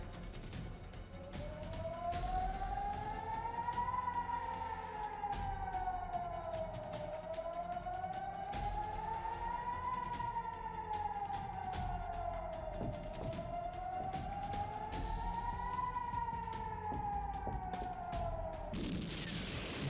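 A wailing siren in wartime Ukraine rises and falls in long, slow cycles, loud and continuous, with scattered sharp cracks of explosions and a burst of noise near the end.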